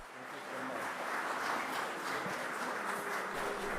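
An audience greets the Pope with applause, a dense, even wash of many hands clapping at a distance that holds steady throughout.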